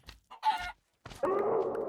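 Chickens clucking in the Minecraft video game, StoneBlock 3 modpack, a few short separate clucks then a longer louder squawking burst, close and clear with no talk.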